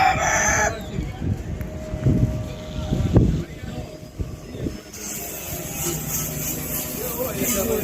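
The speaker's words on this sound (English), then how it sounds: "Just look at this chicken." A rooster crows loudly close by at a heritage site in Port Royal, Jamaica, with clucks and a faint aircraft drone behind it while people talk nearby.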